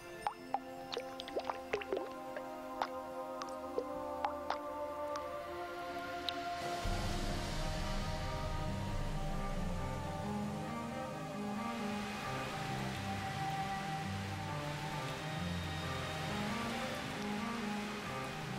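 Rain in the Amazon rainforest begins as scattered, distinct drips, then swells into a steady, close wash of falling rain that holds evenly to the end.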